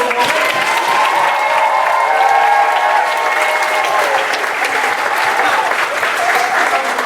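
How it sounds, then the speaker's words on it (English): An audience applauds the light designer at a drama festival, a dense, steady wash of clapping that stays loud and even throughout with faint cheering mixed in. "Let's give it up for our light designer, Harvey."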